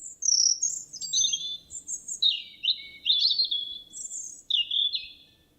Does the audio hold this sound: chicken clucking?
no